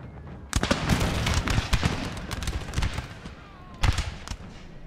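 Musket volley fire in Napoleon: Total War, a crackling spread of many shots and pops over a rumbling battlefield, with a louder burst near the start and another just before the end.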